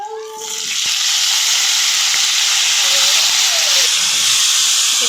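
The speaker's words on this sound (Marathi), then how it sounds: "वांग्याला तेलामध्ये चांगलं तळून घ्यायचं" Eggplant fries in hot oil in a pan with a loud, continuous hissing sizzle close by, after a brief clink at the start.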